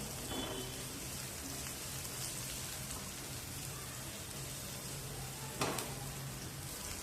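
Onion sautéing in a pan for a roti snack, a soft, steady sizzle running throughout at low level with a brief scrape of stirring near the end; no talk.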